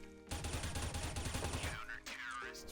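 A rapid burst of gunshots fired through a wall in CS:GO on the Mirage map, loud and close for about a second and a half, followed by brief ringing tonal sounds.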